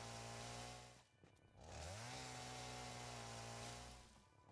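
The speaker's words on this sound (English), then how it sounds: "This chainsaw's doing work." A chainsaw in the video game Satisfactory cutting through wood, a steady buzzing drone that briefly dips and sputters, then revs back up and holds a strong, even cutting whine before fading slightly.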